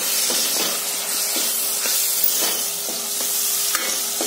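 Garam masala and tomatoes being stirred and fried in a pan for a dried-fish curry, a steady sizzling hiss with soft periodic scrapes of the spoon, close and continuous with no talking.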